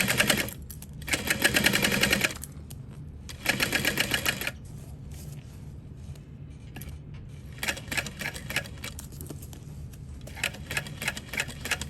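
A sewing machine stitches binding onto a foam-lined bowler hat in close, rapid rattling bursts, several runs separated by pauses, with fainter, choppier stitching near the end.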